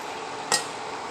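Pork curry with a little added water being stirred in a pot, a single short scrape or clink of the spoon against the pot midway over a steady background hiss.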